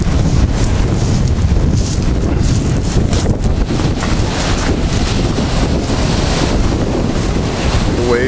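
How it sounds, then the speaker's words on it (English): Ocean surf at a black lava-rock sand beach in Wai'anapanapa State Park, a steady loud roar of waves heavily buffeted by wind rushing across the microphone throughout. "The waves are really nice."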